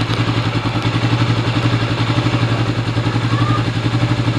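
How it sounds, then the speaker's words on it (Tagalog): A motorcycle-type engine idles steadily nearby while warming up, a loud, even, rhythmic putter with no revving, running alone. "Antayin natin muna, mag-iinit yung makina."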